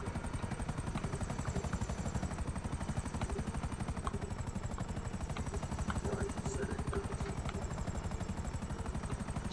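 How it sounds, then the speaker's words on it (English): A helicopter in GTA Online thrums with a dense, continuous rotor chop from start to finish, loud and close, while a faint high whine runs above it. "the helicopter that you're in right now is going to blow up here in about 30 seconds"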